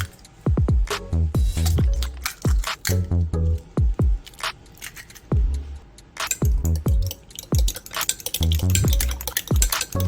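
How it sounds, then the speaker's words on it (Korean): Eggs, about three, cracked against a hard edge for a thin Korean egg-sheet garnish: a string of sharp, close taps and cracks, several in quick succession, with wet shell sounds and small scrapes in between. "이제 지단을 준비하기 위해서 계란을 3개 정도 까줄게요"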